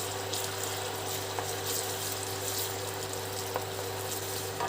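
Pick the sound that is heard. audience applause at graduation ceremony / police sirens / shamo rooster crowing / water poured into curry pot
water poured into curry pot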